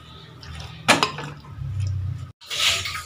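Cauliflower being stirred in a pan for gobi manchurian, with scraping and clattering of a utensil against the pan, a sharp clack, then softer shuffling and rustling up close.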